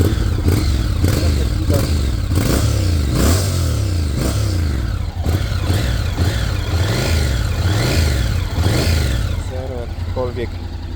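A 2025 Honda NC 750X DCT motorcycle with a dual-clutch gearbox runs nearby, its engine throbbing steadily with a few rising and falling revs. Someone talks over the sound throughout.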